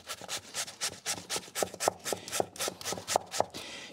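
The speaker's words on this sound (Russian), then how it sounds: "картофель на мелкой терке." Peeled potato rubbed down a fine kitchen grater into a bowl, a quick, even series of close, soft scraping strokes, each ending in a light tap.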